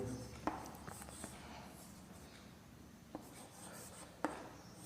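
A pen scratches across paper in short strokes with a few sharp taps, quiet and close during a maths lesson.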